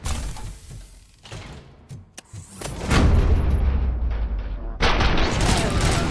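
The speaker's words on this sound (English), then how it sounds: "am I hearing gunshots?" Gunfire in the video game Robocop: Rogue City bursts out in loud, rapid volleys after a quieter stretch with a sharp single crack, followed by more sustained shooting.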